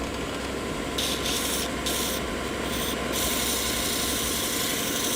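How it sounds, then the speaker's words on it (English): Belt sander grinding a piece of very hard wood: a continuous, loud, close abrasive roar with steady motor hum, the pitch and hiss shifting slightly as the workpiece is pressed and moved, no talking. "This is very hard wood. It's going to be easy to burn my belt."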